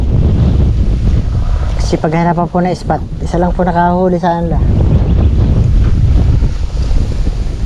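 Strong wind buffets the microphone out at sea during a dalag airgun-fishing outing, a constant loud low roar across the whole stretch, with someone talking over it in the middle.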